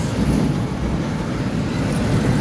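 A noisy bus passing nearby, a loud, rumbling broadband roar that holds steady for a couple of seconds without any talk.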